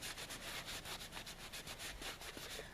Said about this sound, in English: I was careful not to sand too hard right in here because I don't want to interrupt the stitching.